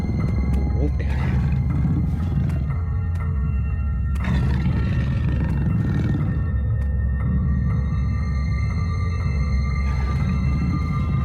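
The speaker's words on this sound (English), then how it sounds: "Yeah, it's a wolf." A wolf in the video game Penumbra: Overture gives a low, rumbling roar that swells and fades over a constant loud, droning underground ambience, with a voice speaking faintly at times.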